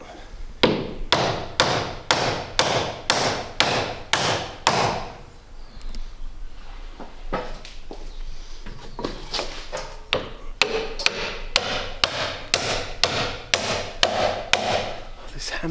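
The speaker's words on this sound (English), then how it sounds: "This hammer's a bit heavy." A hammer taps rhythmically on a wooden deck being laid on a 41 ft wooden boat, making sharp, evenly spaced knocks in two runs separated by a few seconds of quieter handling.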